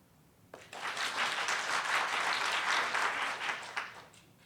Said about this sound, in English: we're going to see who claps harder or louder